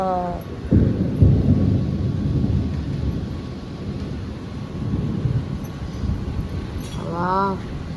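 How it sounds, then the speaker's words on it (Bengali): Low rumbling thunder rolls beneath steady light rain with strong lightning, heard from a rooftop at night, with brief bursts of voices at the start and end. "হালকা হালকা বৃষ্টি হচ্ছে, কিন্তু বিদ্যুৎ চমকাচ্ছে খুব জোরে জোরে"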